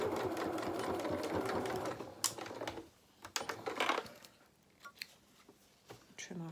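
Sewing machine stitching a dressing gown seam, a quiet rapid needle clatter for about two seconds, then scattered clicks and light handling noises as the presser foot is lifted and the fabric eased.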